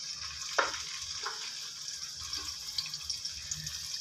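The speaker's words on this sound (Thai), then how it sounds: "ผัดให้พริกหอมนะครับผัดผัดให้หอมเลยนะครับด้วยไฟอ่อนนะครับ" Pounded chili stir-frying in oil over low heat in a pan: a quiet, steady sizzle with a few soft scrapes of stirring, close and alone.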